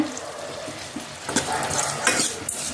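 Tomatoes for sambar are stirred in a frying pan, giving a close, continuous soft sizzle with scraping spoon strokes that come and go over a few seconds.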